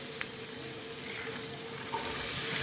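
Onion and tomato fry in a pan with a faint, steady hiss, broken by a couple of small ticks and clinks, quiet and close with no voices.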